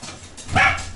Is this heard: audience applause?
no